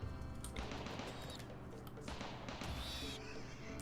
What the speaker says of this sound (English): Hunting with turrets is always fun.